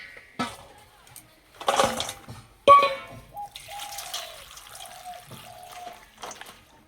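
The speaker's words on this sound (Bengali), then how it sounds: "সিমগুলো প্রথমে পরিষ্কার করে ধুয়ে নেব।" Flat beans (sheem) being washed by hand in water, with splashing and trickling bursts, a sharp clatter partway through and a thin tonal trickle running underneath.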